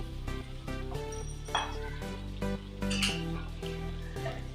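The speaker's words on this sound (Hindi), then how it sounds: "ये टमाटर का पेस्ट डाल रही हूँ" Tomato paste goes into spices frying in a pot for gajar chicken salan, giving a close sizzle with clinks and scrapes of a spoon stirring against the pot, steady throughout with brief louder bursts.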